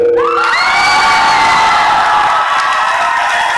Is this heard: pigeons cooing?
no